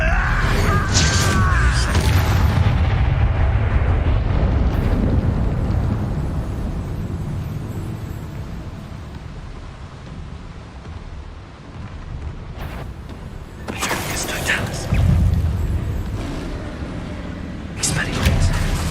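Explosive spell blasts in Hogwarts Legacy, a roaring burst that decays into rumbling, then more sharp cracking impacts and booms later, loud, with voices shouting incantations during the fight.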